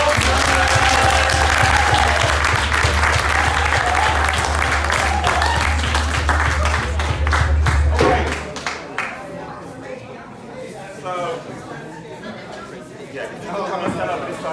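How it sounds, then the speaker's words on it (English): Audience round of applause at a mental health and suicide performance project event, loud clapping and crowd chatter over a low hum for about eight seconds, then fading to scattered voices and movement in the room. "Give them a round of applause"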